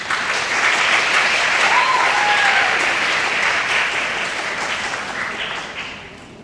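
An audience applauds for the performer at a live music event, loud sustained clapping from a large crowd that holds steady for several seconds and then gradually fades.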